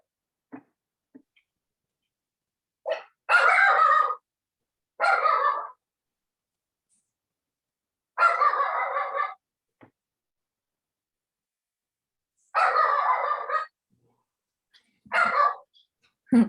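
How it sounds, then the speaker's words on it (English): Dogs bark in separate short bursts spaced several seconds apart, loud and close, with faint clicks and near silence between them. "My dog hears your dog and she's growling now."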